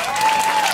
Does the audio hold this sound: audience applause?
yes